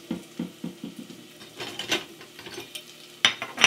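Potatoes tossed into preheated oil in a pan, with a run of close rhythmic scraping stirs followed by soft sizzling and a couple of sharp metallic clinks of utensil against pan.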